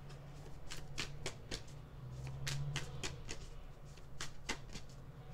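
Close, soft riffling of tarot cards being shuffled by hand, repeated flicking bursts in an uneven rhythm over a quiet background, with no speech.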